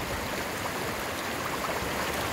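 A small mountain stream feeding the Psezuapse river near Lazarevskoye, flowing in a continuous, close, fairly loud babbling rush.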